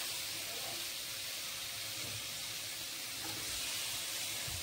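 Spices frying with salt in a wok, a steady soft sizzle and hiss that continues faintly and evenly for a few seconds with low background noise.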